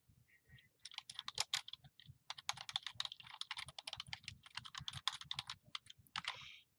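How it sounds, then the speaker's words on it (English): Fingers tap out a line of text on a computer keyboard in a quick, uneven flurry of close, soft key clicks, with brief gaps between words and no talking. "So we're going to type that."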